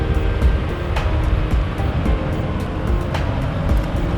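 Steady low rumble of a ferry crossing water, a constant droning engine and water noise with a few faint clicks, unbroken and moderately loud.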